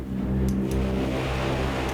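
Gritty, nasty Dysfunction synth sound from the Drift 003 pack: a thick, buzzing low drone with a grinding, engine-like texture, steady and fairly loud, with a couple of faint high clicks over it.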